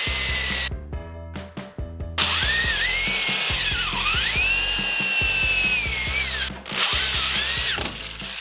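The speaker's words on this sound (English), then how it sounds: "Just need a countersink, a couple of places for screws to go on here." A power drill cuts countersink holes for screws into pallet wood, the bit whining loudly and close with a few short bursts before one long sustained run whose pitch sags and rises under load, then a brief stop and restart.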